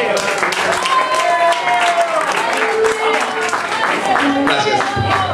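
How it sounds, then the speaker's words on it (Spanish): Audience applause for a performer at a live show by a tango orchestra, with crowd clapping mixed under loud sustained instrumental music and some voices throughout. "Por favor, un aplauso para el negro."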